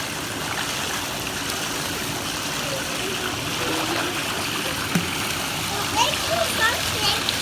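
Garden hose running beneath the surface of a backyard swimming pool during cleaning, a steady watery rush and trickle with small splashes, heard close under people talking.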